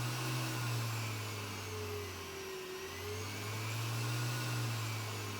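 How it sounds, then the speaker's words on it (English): Electric motors in a homemade Tesla-style experiment hum loudly and steadily, their pitch dipping and then rising again as they wind down and spin back up, with no talking. "You can hear the motors going down."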